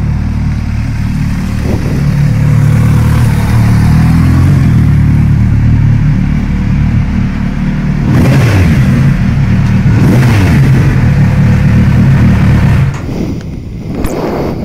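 Kawasaki Z900RS motorcycle on a New Year's Day test ride: a loud, steady close engine drone, then a couple of rising throttle surges, before the noise drops off near the end.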